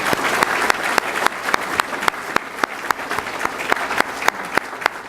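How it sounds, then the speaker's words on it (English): An audience gives a sustained round of applause at a City Colleges of Chicago address, dense and loud with sharp individual claps standing out throughout, and no voices over it. "let's give them a big round of applause"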